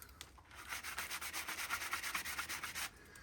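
Sanding block rubbed by hand over a copper piece during a beginner blacksmithing project, a steady run of quick rasping strokes, close and fairly loud, with no talking.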